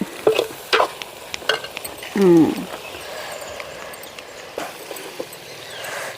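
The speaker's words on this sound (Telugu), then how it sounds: "ఇలాగే ఒక ఐదు నిమిషాలు అయితే కలుపుకుంటూ వేయించుకుందాం" Spicy chicken fries in a pan over a wood-fire stove and is stirred, with a faint sizzle under scattered scraping and clattering knocks, plus a short vocal or animal-like sound and an outdoor background.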